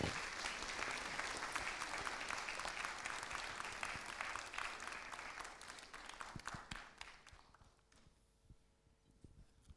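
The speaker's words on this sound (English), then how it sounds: "Could we please give Minister Kono another round of applause?" Dense, steady audience applause for Minister Kono at the JENESYS 2019 launch event fills the room, then thins to scattered claps and fades out over the last few seconds.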